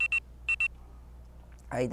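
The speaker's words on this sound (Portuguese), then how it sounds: "Esse é meu alarme de hora." A short electronic alarm sounds twice per pair, two quick pairs of high beeps close by, followed by a burst of other noise near the end.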